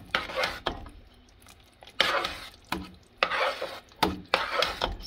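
Drained ground beef being stirred into a steaming pot of meaty chili: repeated close scraping and wet stirring strokes in a steady rhythm, with a soft sizzle underneath and no talk.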